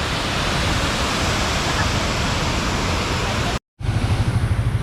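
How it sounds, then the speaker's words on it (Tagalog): A man-made waterfall in Shuili, Taiwan pours as a steady, loud broadband roar that fills the scene, cutting out briefly near the end before resuming. "Man-made falls."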